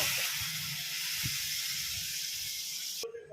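Water with potatoes and fried spices comes to a boil in a pan for Bengali rui fish jhol, giving a soft, steady hiss and faint bubbling with low pops, close by, then a brief clatter at the end.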